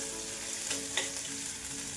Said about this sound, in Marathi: आता कांदा आपल्याला तांबूस रंगावरती छान मऊ होईपर्यंत परतून घ्यायचा आहे।